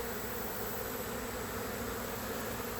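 Airborne honey bee swarm droning in one unbroken, even buzz, a thick layer of wingbeats heard throughout at moderate level.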